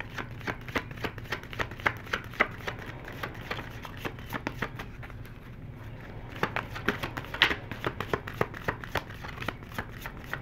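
Angel oracle cards from a romance deck being shuffled by hand, a steady run of quick papery riffs and taps close up with a short pause midway.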